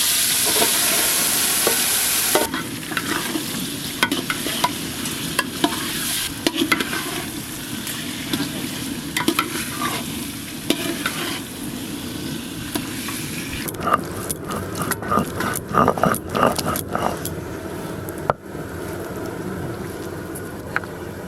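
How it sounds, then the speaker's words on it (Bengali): Spiced chicken pieces sizzle and crackle steadily in hot oil and ghee for a chicken chaap, with scraping stir strokes and occasional sharp spatters that grow busier toward the end, close and fairly loud with no talking. "তেল আর ঘি একসঙ্গে ভালো করে গরম করে নিয়েছি। মশলা মাখানো চিকেনের পিসগুলো দিয়ে দেব।"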